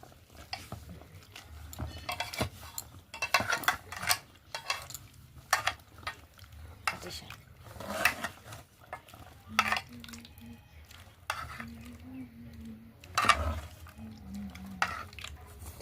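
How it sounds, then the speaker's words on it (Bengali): A spoon stirs rice flour and milk into a thin batter for patishapta, clinking and scraping against the bowl in quick irregular bursts, close and fairly quiet, with brief soft humming in the background. "দুধ দিয়ে গোলাবো।"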